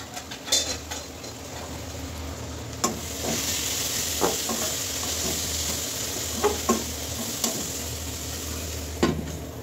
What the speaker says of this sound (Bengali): মশলাটা একটু ভালো করে নেড়ে দিতে হবে।